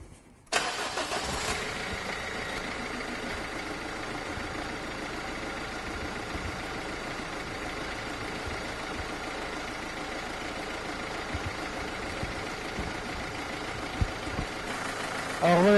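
A Renault Scénic dCi diesel engine cranks and catches after a moment of quiet, then settles into a steady, close idle with a slightly knocking diesel rumble.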